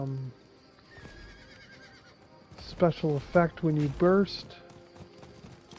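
A plain horse mount in Diablo IV's Lunar Awakening event gives a run of loud, rapid hoof clip-clops mixed with a whinny, following a quieter stretch with a voice talking.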